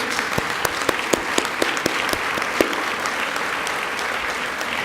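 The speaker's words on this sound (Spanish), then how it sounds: "les damos un fuerte aplauso al autor Urbano Merino" An audience applauds sculptor Urbano Merino at the unveiling of his sculpture during a monthly session, steady close clapping with a few sharp individual claps standing out, no talking.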